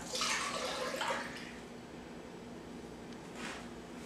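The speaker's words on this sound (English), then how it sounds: "You're going to add the milk to a pot." Milk is poured into a cooking pot in a steady splashing stream for about a second and a half, then it goes quiet apart from a brief, softer splash near the end; no one talks.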